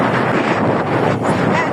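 Strong wind buffets the microphone in a steady, loud roar throughout, with no pauses.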